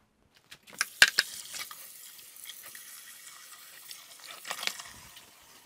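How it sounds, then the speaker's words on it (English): Hot water runs from a kitchen tap while dishes are rinsed after preparing carrot raisin salad, a steady close splashing flow with a few sharp clinks near the start. "Running hot water can cure a lot of messes."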